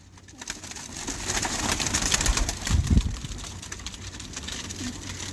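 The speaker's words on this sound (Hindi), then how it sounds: "मैं सेम परफॉर्मर कबूतर दिखा रहा हूं।" Soft cooing from performer pigeons on a rooftop, heard against a broad outdoor background hum, with a louder low burst midway.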